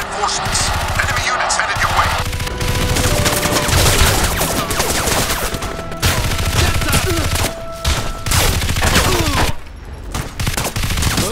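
Dense gunfire from Crysis Remastered crackles in loud, rapid bursts with booms and shouted combat voices mixed in, continuing throughout close and intense.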